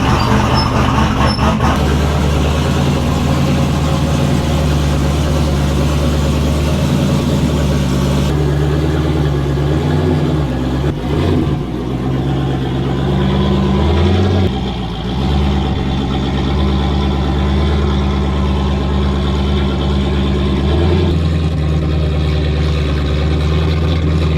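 A car with a repaired rear main seal and a clutch that needs bleeding runs steadily while turning around in snow, its engine droning loud and close with shifts in pitch.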